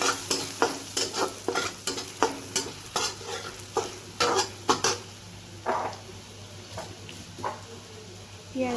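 Ginger pieces fry in a hot pan, a steady sizzle broken by repeated scraping stirs and clinks of a spatula against the metal, with a low hum running underneath.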